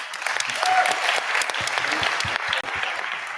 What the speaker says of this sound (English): Another big round of applause to people who are contributing to WordPress more than 20 years